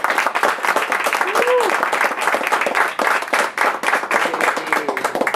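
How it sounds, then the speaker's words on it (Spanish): Audience applause at a typography event, many hands clapping steadily and fairly loud, with a brief voice sounding under the clapping partway through. "Entonces démosle un aplauso a la..."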